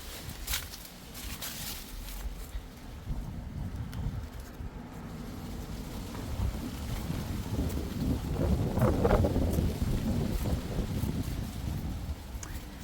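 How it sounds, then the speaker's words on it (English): Gusty wind buffets the microphone outdoors, a rough low rumble that swells and fades over several seconds, strongest toward the middle. "It's quite windy as well today."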